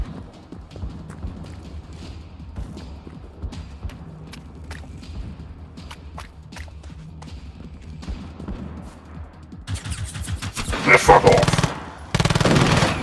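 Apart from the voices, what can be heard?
gunfire in the video game Generation Zero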